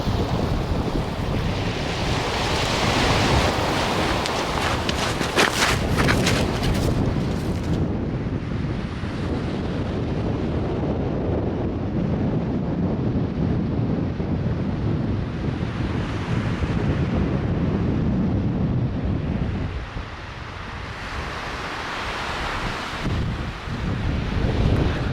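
Ocean waves wash against the Prince Edward Island shore, surging and receding in slow swells, with heavy wind buffeting the microphone and no talking.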